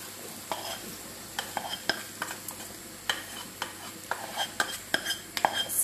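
A spoon stirs coconut milk and lentils for Jamaican curry in a pot, giving soft scraping knocks at an irregular pace over a faint sizzle.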